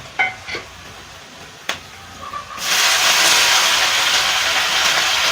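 A curry of wild forest vegetables goes into a hot frying pan: a few light clinks, then a sudden loud, sustained hissing sizzle that fills the rest of the clip.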